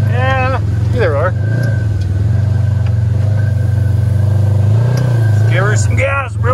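A side-by-side off-road vehicle's engine drones steadily and loudly throughout, its pitch swelling a little as it gets gas, with people talking over it near the start and end.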